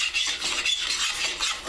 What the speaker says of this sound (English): this is deglazing. Just scrape it good.